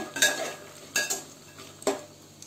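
Fox nuts (makhana) being dry-roasted in a pan for a pressure-cooker pulao, heard as three quick scraping stirs of a spoon against the metal, spaced about a second apart, with quiet gaps between.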